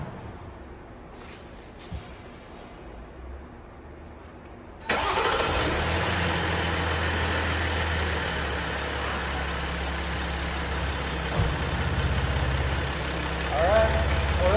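Right after an oil change, the EcoDiesel engine of a 2020 Jeep Wrangler Rubicon cranks and catches with a sudden roar, then settles into a steady, loud diesel idle that continues to the end.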